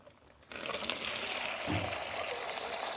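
Cold tap water suddenly gushes into a container after a moment of quiet, a loud, steady rushing pour that continues to the end.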